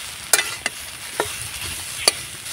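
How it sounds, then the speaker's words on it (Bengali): Potatoes being stir-fried with red chilli powder and garam masala in a pan, a soft steady sizzle broken by a few sharp scraping and clinking stirs of the utensil. "এবার আমি আলুটা ভালো করে মশলার সঙ্গে কষিয়ে নিব।"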